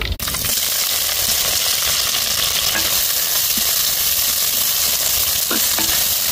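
Onions sizzling loudly in a pan for a vegetarian dish, a dense continuous frying hiss up close with an occasional clink of a stirring utensil against the pan.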